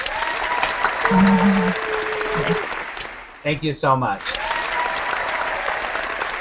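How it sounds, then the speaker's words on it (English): Audience applause rises and holds, then a voice speaks briefly before the clapping continues under steady background sound. "So we're giving you a big,"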